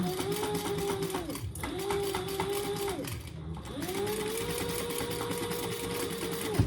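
A sewing machine stitches the side panel of a fabric travel bag in three steady runs of rapid mechanical whirring, briefly pausing between runs, close and moderately loud.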